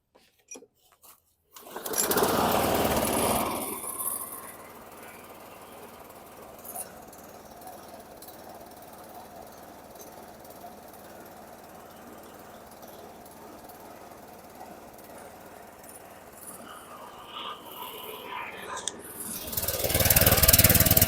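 A 2012 Craftsman lawn mower engine idles at very low RPM with a steady, even mechanical drone, louder for a moment near the start and again as it revs up at the end.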